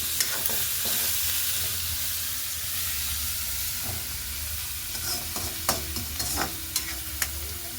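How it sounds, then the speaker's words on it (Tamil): Onion and green chillies sauté in a pan with a low, steady sizzle. Light stirring taps and scrapes grow more frequent toward the end, and no one speaks. "அடுத்ததாக எடுத்து வச்சிருக்கிற பச்சை மிளகாய் வட்டி வச்சிருக்கிறதையும் சேர்த்துக்கொள்வோம் ரெண்டையும் சேர்த்து நல்ல வடிவாக வதங்க விடுவோம்"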